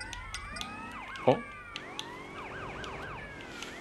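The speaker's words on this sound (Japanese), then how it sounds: "そうこれサイレンの切り方が未だに分からへん" Police car siren from the video game GTA Liberty City Stories, a loud wailing sweep that cycles up and down continuously, with a brief thump and a short spoken exclamation partway through.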